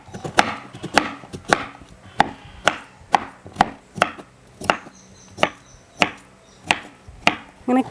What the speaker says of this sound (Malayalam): കഴുകി വൃത്തിയാക്കി വെച്ച ചേന ഇനി ചെറിയ കഷ്ണങ്ങളാക്കി അരിയട്ടോ.